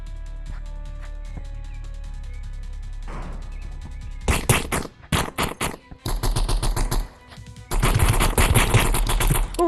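Pistol shots from the video game Animal Rivals ring out in rapid, sharp bursts separated by brief gaps, loud and close, after a quieter stretch of faint game sounds.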